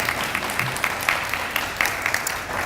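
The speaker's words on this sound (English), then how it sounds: "We can clap for Matt." Staff audience at a school new teacher orientation clapping steadily throughout, a moderate, fairly even patter of many hands with a few louder individual claps standing out.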